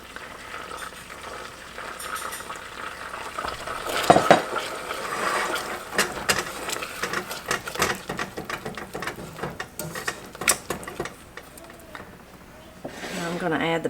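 Cocoa powder being stirred into melted butter in a pot, scraping and stirring noises with irregular clatter, fairly close, with some background voice sounds.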